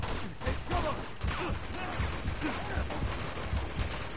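Enemy gunfire in Uncharted 2 crackles in rapid, scattered bursts of shots under a busy, noisy battle, fairly close and continuous across the whole stretch.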